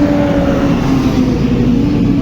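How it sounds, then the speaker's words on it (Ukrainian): Tractor engine running at a steady drone, loud and close, with a constant low hum and no talk over it. "трактор."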